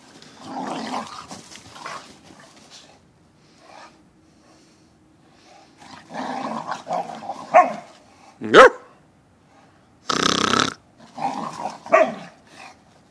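Big dogs playing in New York snow give off bursts of barking, snorting and low growls, with short loud outbursts separated by quieter gaps and occasional human voices nearby.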